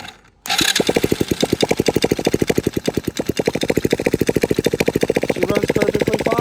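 A four-wheeler engine running steadily after a bad carburetor was replaced, with a fast, even chugging pulse that is loud and close and holds for several seconds after a brief quiet start.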